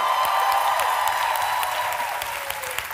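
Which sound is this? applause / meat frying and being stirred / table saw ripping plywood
applause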